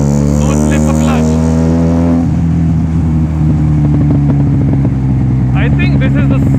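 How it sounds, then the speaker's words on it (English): A Benelli TNT 300 motorcycle with a loud aftermarket exhaust roars close up while being ridden at night, its engine note rising and shifting, and the rider talks over it. "I think this is the second loudest bike I've ever ridden."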